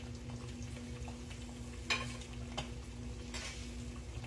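Breakfast food fries in a pan with a soft, steady sizzle, broken by a few light clinks of a utensil against the cookware and a low background hum.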